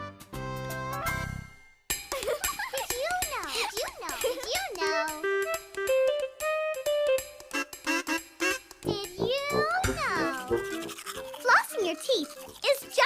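A toothbrush scrubs briskly at the start of a children's cartoon, then gives way to someone talking and bright musical tones.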